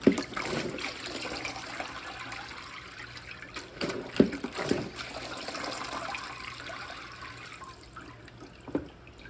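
Water trickles and splashes steadily while a mop is rinsed, a soft continuous wash broken by a few sharper drips and knocks, close by with no talking.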